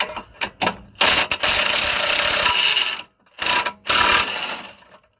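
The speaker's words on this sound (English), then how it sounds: "in order to remove the anti-roll bar top linkage, I'm gonna be using a 14mm socket" Ratchet with a 14mm socket loosening a Honda Civic anti-roll bar top linkage, loud rapid clicking bursts of ratcheting separated by short pauses, close up.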